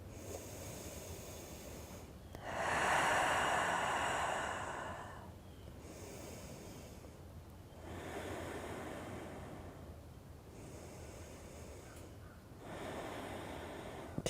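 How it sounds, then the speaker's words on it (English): Slow, deep breaths during a yoga core workout: long airy inhales and exhales swell and fade in a steady rhythm, close and soft, with a quiet pause between each breath. "Two more breaths."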